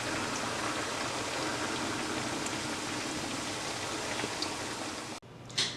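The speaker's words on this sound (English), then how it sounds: "And let it start frying." Tomatoes, onions, garlic and pepper sizzle steadily in hot oil left from frying fish, a dense continuous hiss with no talk, ending in a brief clatter.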